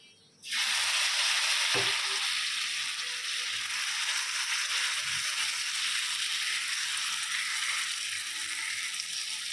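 Hot food sizzles steadily in a pan after a small splash of oil, starting abruptly with a loud hiss that holds for several seconds, with a faint clink early on.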